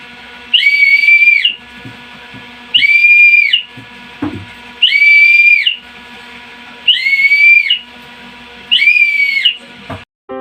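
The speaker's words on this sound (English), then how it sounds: "I do whistle my dog a lot" A person whistles to call a dog, giving five loud, evenly spaced two-tone whistles, each lasting about a second, with short gaps and faint background noise in between.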